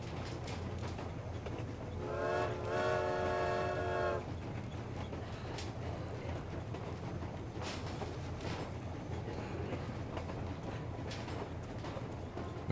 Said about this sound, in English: Ooh, I can sound the horn.